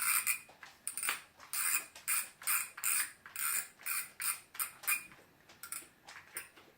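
A Wychwood Riot Big Pit 75 fishing reel's spool being unscrewed gives a run of quick ratcheting clicks in short, regular bursts. The clicks are close and crisp, and no one speaks.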